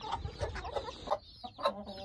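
Hens and chicks cluck in a run, the soft calls coming in a quick irregular series at close range, with a few brief pauses between bursts.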